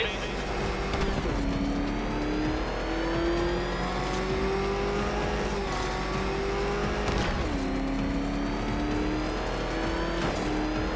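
Batmobile engine racing through the Riddler's race course in Batman Arkham Knight, a continuous loud roar with repeated rising revs between gear shifts, plus scattered thumps and tire noise.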